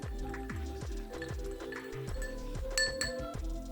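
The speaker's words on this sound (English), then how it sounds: "give it a stir" A big ice rock knocks against the inside of a glass as a Kentucky bourbon cocktail with white creme de cacao is stirred, giving close, repeated clinks at a steady rhythm with no talk.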